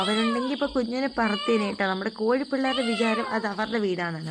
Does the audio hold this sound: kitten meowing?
yes